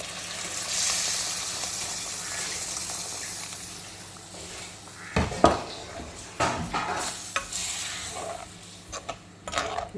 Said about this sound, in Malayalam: നമുക്ക് ഇതിലേക്ക് കടലയുടെ ഗ്രേവി ആദ്യം ഒഴിക്കാം. അപ്പോൾ ഈ മസാല എല്ലാം നന്നായിട്ട് മിക്സ് ചെയ്തെടുക്കാം.